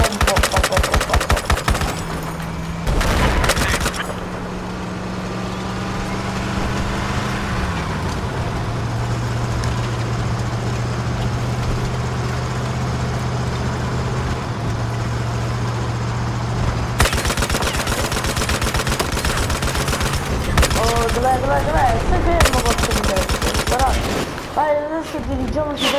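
Automatic and single gunfire in the Battlefield 4 video game, bursts of shots alternating with vehicle or engine rumble and a steady mechanical drone, with players talking over the action.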